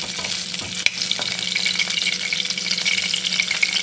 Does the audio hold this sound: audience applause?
no